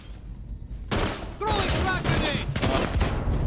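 Gunfire from Rainbow Six Siege, during the Black Ice update, begins with a sudden loud burst and continues as a steady crackle of rapid shots, with whistling ricochet-like tones mixed in.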